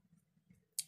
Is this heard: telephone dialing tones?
no